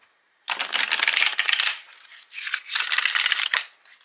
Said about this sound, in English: so here's the shuffle